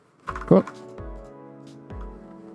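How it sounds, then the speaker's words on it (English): Computer keyboard keys pressed while working in Blender, a few sharp close clicks spaced apart, heard alongside someone talking. "hit the K key for the knife"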